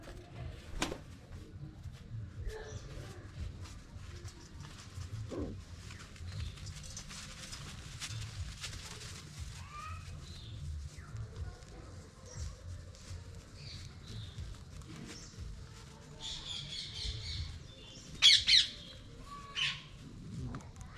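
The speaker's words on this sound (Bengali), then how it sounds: "সকাল হয়ে গেছে সো আমার পায়রাগুলোকে ছেড়ে দিই" Pet pigeons let out of their coop in the morning, with scattered chirps and soft calls over a low steady rumble and a brief louder flurry near the end.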